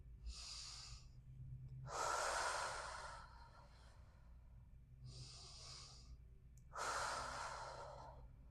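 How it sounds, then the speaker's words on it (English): Two slow cycles of deep breathing during a breathing exercise lying on a foam roller, each a soft, airy inhale followed by a longer, louder exhale, close and alone in a quiet room. "So we're going to do a couple of deep breaths."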